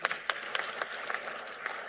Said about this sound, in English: Now the clapping we are doing is hypoglycemic.